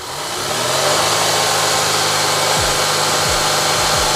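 A car engine with an air leak behind the throttle body runs steadily, then the throttle is opened to about 3000 rpm, a loud, close hum that rises in pitch, with no voices.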